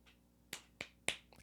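Hand claps marking a practice rhythm for a bass warm-up, three sharp separate claps at an even pace in a quiet room, then a faster cluster at the end.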